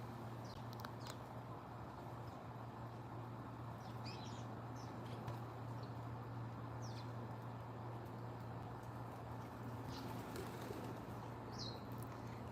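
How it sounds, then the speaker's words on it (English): Birds outdoors flap their wings in brief scattered flurries and coo softly over a steady low hum of background noise, faint and somewhat distant throughout. "There's a lot of birds over there."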